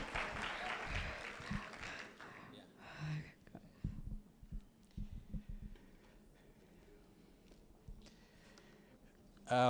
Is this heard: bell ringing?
no